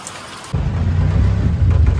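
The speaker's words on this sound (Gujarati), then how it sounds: "વરસાદ હજી કન્ટિન્યુ ચાલુ જ છે એક કલાકથી" Heavy rain in a windstorm suddenly surges in and pours down steadily, loud and close, with a deep rumble underneath.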